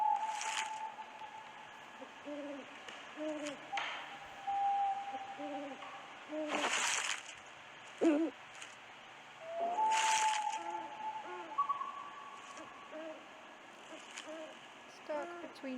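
A brown owl in a Wizarding World video game hoots repeatedly in soft, low, evenly spaced calls, broken by a few louder whooshing bursts.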